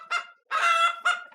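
A hen squawks in three loud, close bursts, a short honking call, a longer harsh one and another short one, alone with no talk.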